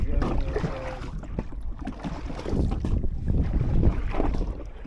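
Paddling a small boat on the open ocean with a broken paddle: dull, irregular water strokes and splashes mixed with gusty wind buffeting the microphone, continuous and close throughout.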